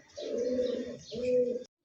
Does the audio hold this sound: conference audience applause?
no